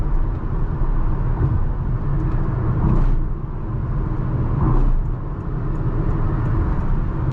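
Steady engine and road rumble from a Honda Elevate SUV cruising at highway speed around 100 km/h, loud and continuous with slight swells of wind and tyre noise, no talking.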